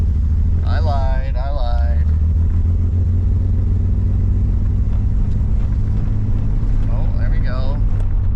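An engine that had refused to run idles with a steady low rumble, held up at higher revs once it clears, close and continuous under brief spoken remarks from a man at the start and end.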